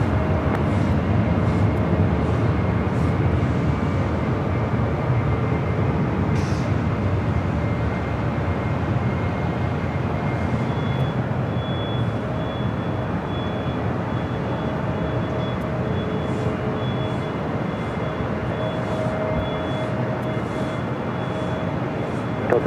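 An airplane on a runway at Los Angeles LAX airport, a steady, fairly distant jet roar and rumble that holds for over twenty seconds, with a faint high whine joining midway.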